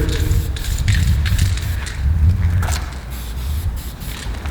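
Molotow spray paint cans hiss in short bursts as graffiti is painted on a wall. The sprays are close and loud, broken by pauses and soft footsteps or shuffling, and no one speaks.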